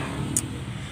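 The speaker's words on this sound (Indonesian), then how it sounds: "suara motor" Motorbike traffic at a dimly lit roadside: a continuous, moderately loud engine drone and road rumble with a brief faint high squeak partway through, and no one talking.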